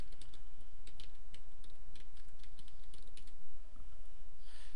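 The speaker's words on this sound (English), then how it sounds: "You can type in anything you want." Steady typing on a computer keyboard, close and continuous, with rapid irregular key clicks and no talking.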